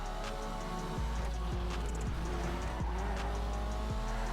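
A sports car, the Annis Euros X32 in GTA Online, is driven at high speed with a loud sustained engine roar. Repeated quick gear-shift drops and brief tire squeals come through, and there is no talk.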